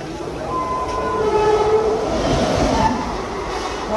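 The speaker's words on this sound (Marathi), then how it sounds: "तेज गाड़ी स्टार्ट हो रही है" A Mumbai local train starting off from the platform at a station in the Palghar area, with a steady loud rumble of wheels and carriages rising and rolling on, faint horn-like tones drifting over the noise.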